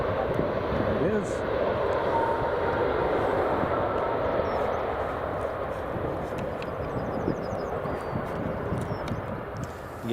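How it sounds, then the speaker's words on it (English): EasyJet Airbus A320neo, one of the airline's newest, at Edinburgh Airport, its engines giving a continuous broad roar at steady loudness, fading slightly toward the end, with a voice talking over it. "that is one of the newest A320 Neos in the EasyJet fleet"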